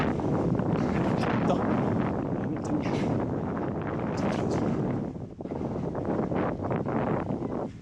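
Strong wind buffets the microphone in a steady, roaring rush with gusty flutters during a trail race, briefly easing near the end before picking back up.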